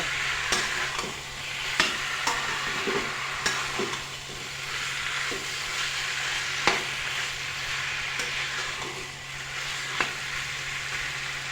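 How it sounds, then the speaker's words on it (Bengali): Jackfruit curry with spices, sugar and slit green chillies being stirred in a frying pan: a continuous close sizzle broken by repeated sharp scrapes and taps of the spoon against the pan. "এখন একটু সময় নাড়াচাড়া করে অল্প জল দিয়ে দেব"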